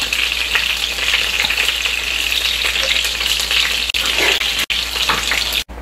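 Chicken balls fry in a pan of hot oil, giving a loud, steady crackling sizzle that runs without a break, with a few brief dips near the end and no voices.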